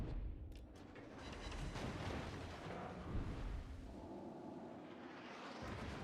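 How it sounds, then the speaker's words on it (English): Battleship Monarch in a naval combat game fires armour-piercing shells, a sustained low rumbling barrage of heavy booms that rolls and overlaps continuously across the whole stretch, dense and loud throughout with no pauses. "Monarch firing AP."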